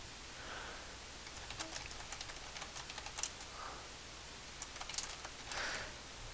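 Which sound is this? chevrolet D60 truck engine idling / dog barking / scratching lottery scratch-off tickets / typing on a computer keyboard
typing on a computer keyboard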